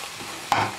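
A spoon stirs black pepper, salt and red chili flakes through a sizzling frying pan, a faint steady sizzle broken by two short scraping strokes near the end.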